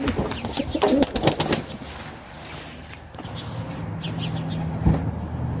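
Young male and female white crested tumbler pigeons coo in a low, repeated rumbling call, close and clear, with a few sharper background noises early on.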